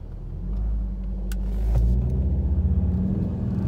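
A 2019 VW Golf R Mk7.5 with coded throttle response accelerating on the road, a low engine rumble swelling steadily from inside the cabin, with a brief click partway through and no talk.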